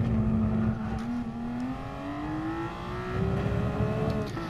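A race car engine in the video game GT Sport drones steadily, its pitch climbing smoothly as it accelerates, loud and close throughout with no talking.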